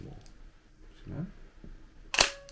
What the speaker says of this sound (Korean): 렌즈를 연 김에 간단하게 셔터 스피드 테스트 한번 해볼게요.